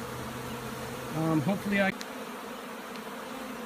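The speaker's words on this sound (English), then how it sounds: "There's a lot of bee activity on the side of the bucket because it's pretty darn hot in there." Honey bees swarm and buzz around a hot bucket of honeycomb during a Vermont beekeeping job, a steady close insect drone running throughout, with a brief spoken word cutting in partway.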